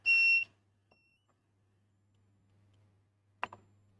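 A single short, shrill electronic buzzer beep from the switch of a Multico thicknesser sounds at the start, followed by near silence, a low hum and a couple of faint clicks.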